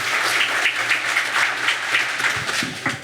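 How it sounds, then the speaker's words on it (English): Live audience applause at a podcast show in Toronto, dense steady clapping filling the room for about three seconds with no talk over it. "Give yourselves a round of applause for making it out."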